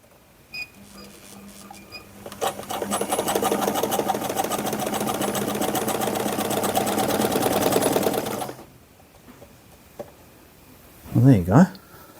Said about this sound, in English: you can run the sewing machine without any material in it